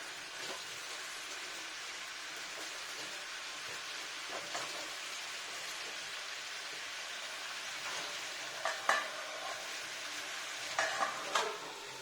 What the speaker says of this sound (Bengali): কষাতে হবে ভালো করে পেঁয়াজ তারপর ঢাকা দিয়ে নেব